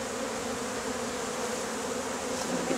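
A dense, steady buzz of many honeybees, close and continuous throughout, from a beekeeper's cage of collected bees gathered from a wall, with no talk.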